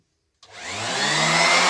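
An Erbauer 400-watt 125 mm random orbital sander switches on and spins up to a steady, loud whirring hum that keeps running, close by with no talking.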